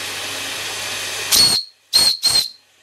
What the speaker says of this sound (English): I'll try the whistle.